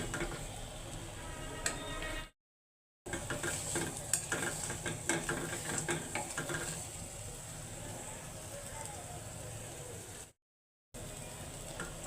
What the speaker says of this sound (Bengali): অনেকক্ষণ ধরে তেলে ভাজবো